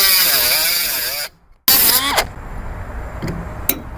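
Reciprocating saw cutting a 1973 Harley Sportster motorcycle frame: a loud, close buzzing cut with wavering pitch, a brief stop, then a short burst of cutting before fading to lighter rattles and taps.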